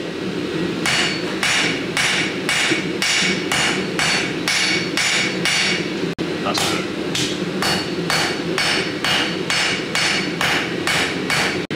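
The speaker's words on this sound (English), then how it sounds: "the forging heats straight out to the anvil" A blacksmith hammers a hot forging on an anvil: loud, close metallic strikes in a steady, rapid rhythm that continues through the whole stretch with no talking.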